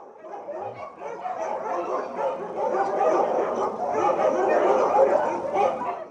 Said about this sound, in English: You can hear the white Samoyeds barking.